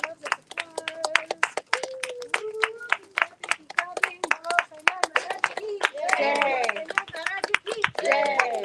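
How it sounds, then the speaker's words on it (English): Scattered, uneven clapping from a small group at a full-moon fire ceremony, sharp close hand claps mixed with cheerful voices and sung exclamations that grow louder toward the end. "Oh my gosh, so much applause"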